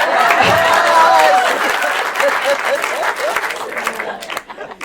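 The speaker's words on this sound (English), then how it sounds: "round of applause" An audience at a National Alliance on Mental Illness of Maine event applauds with dense, steady clapping that gradually thins out, while faint voices and cheers rise over it.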